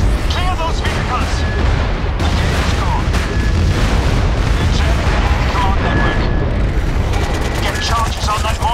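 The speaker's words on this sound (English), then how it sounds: "Be advised, friendly bomb is inbound." A friendly bomb strike in the shooter game MAG: heavy, continuous battlefield roar of booming blasts and rattling gunfire, loud and dense throughout, with voices shouting over it.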